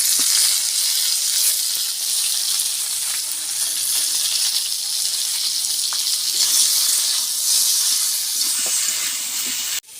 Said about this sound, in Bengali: কয়েকটা আম রান্না হচ্ছে